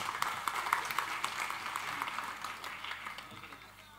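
A crowd applauds the Marathi poet Kusumagraj at a live stage show with steady, close clapping that fades gradually over a few seconds, with a voice faintly underneath.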